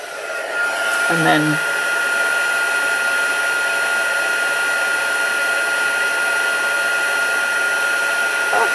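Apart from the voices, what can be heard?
heat gun heating embossing powder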